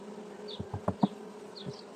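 Carniolan and Caucasian honeybees at a hive give a soft, close hum with brief passing buzzes, broken by a few dull knocks.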